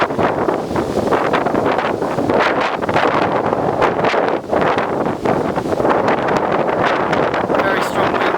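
Very strong wind gusts roar continuously outdoors near a road, buffeting the microphone with dense, loud rumbling and blowing dust, with no letup across the stretch.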